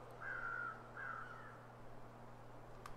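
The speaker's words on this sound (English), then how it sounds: "Where are those crows?" Two crows caw in The Long Dark, two drawn-out calls close together at moderate distance over a low steady wind-like hum, then quiet.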